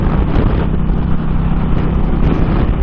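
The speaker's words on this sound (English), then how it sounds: "The wind is blowing from this side, kind of blowing me that way." Strong crosswind buffets a helmet microphone while riding an Indian motorcycle on an open desert highway, a loud, constant low roar with the engine drone blended underneath and no pauses.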